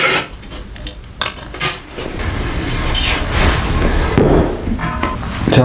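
A metal clamp is fitted onto a car cab bracket during welding prep, giving a run of close, sharp metallic clanks and rattles of loose steel parts, with no talking.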